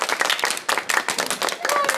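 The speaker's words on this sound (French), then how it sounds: "On peut applaudir Enora qui gagne le jeu." A studio audience claps and applauds for the winner of a radio game show, a steady dense patter of hands lasting the whole two seconds, close and fairly loud.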